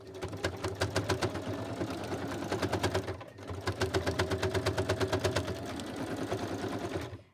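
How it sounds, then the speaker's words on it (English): A sewing machine stitching through a paper envelope, running in two rapid rhythmic bursts of needle strokes separated by a short pause, close and clear with no talking. "And my sewing machine is not going to love me."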